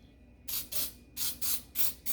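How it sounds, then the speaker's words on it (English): Cooking spray hisses from an aerosol can into a bundt cake pan in five close, loud bursts, each about a quarter second long, separated by short pauses and repeated in a quick, even rhythm. "I spray that sucker like, and you spray everything, every part of it."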